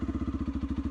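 A motorcycle engine close by, a beginner's bike eased off in first gear or from neutral, chugging in a steady, even pulse of low thumps with no voices.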